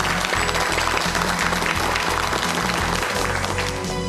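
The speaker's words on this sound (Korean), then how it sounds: "박수로 최광식 교수의 강의 청해 듣겠습니다." An audience claps in sustained, dense applause for a lecturer at a televised university lecture, a steady wash of hands throughout with no voices over it.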